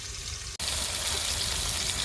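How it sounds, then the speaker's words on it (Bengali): Water poured into a hot wok with oil and spice-coated water lily stems sets off a loud, steady hissing sizzle after a brief quiet moment, continuing without a break. "দিয়ে দিব সামান্য পরিমাণ পানি,"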